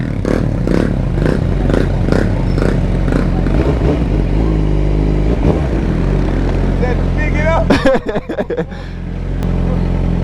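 A Suzuki GSX-R 600 sport motorcycle threads through traffic, its engine note steady and close, with sharp clattering bursts near the end and ambient road noise throughout.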